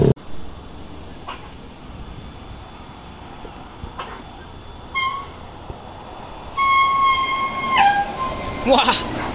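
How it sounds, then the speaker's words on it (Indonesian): A Prima Jasa intercity bus on the Bekasi–Tasikmalaya route brakes hard through a curve, letting out piercing, high-pitched brake squeals that rise over the rumble of passing road traffic close by. "Wah, mantap suara remnya nih"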